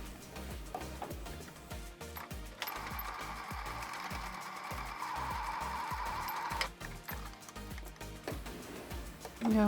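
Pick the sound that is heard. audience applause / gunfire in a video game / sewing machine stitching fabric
sewing machine stitching fabric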